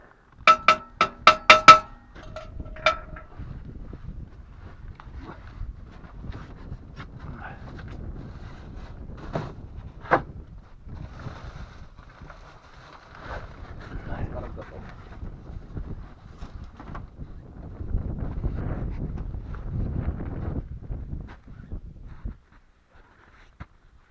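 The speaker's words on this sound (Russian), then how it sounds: "Дует сильный ветер." Gusty wind blows across the microphone at a goose-hunting hide on a marsh, rumbling low and uneven, with a few sharp knocks at the start and faint voices now and then.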